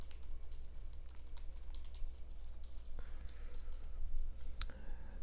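Steady, fairly faint typing on a computer keyboard while VBA code is entered for a web browser control in Microsoft PowerPoint 2010. A rapid, uneven patter of close keystrokes plays over a low background hum.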